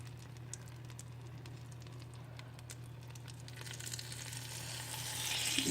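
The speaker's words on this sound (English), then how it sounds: "You hear that sizzle when you put it in?" Chicken pieces sizzle in a hot pan as skin-on meat is added, a steady close frying hiss and crackle that swells louder toward the end, with no talking over it.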